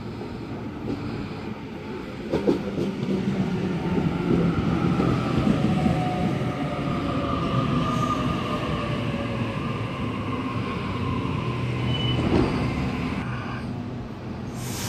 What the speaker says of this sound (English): I'm going to film a few trains whilst I'll wait for 86 class transfer to come through.